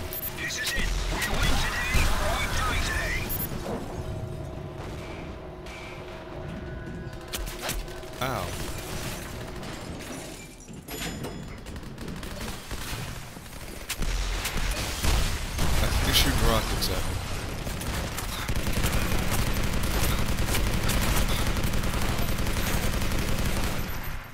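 Machine gun fire in the first-person shooter game Legendary, bursts of automatic shots cutting through a dense, loud game soundscape of mechanical noise, with a player talking over much of it.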